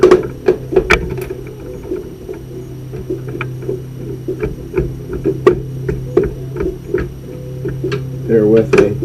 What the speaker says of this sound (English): You're going to take all these screws out.